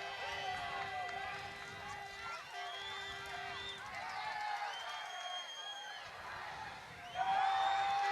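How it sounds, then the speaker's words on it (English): Spectators at a Euro Hockey League field hockey match, including a Spanish section of the crowd, react after an umpire's video-referral challenge with sustained mixed whistling, shouting and whoops, swelling loudly near the end. "You can hear what the Spanish section of the crowd thought about that."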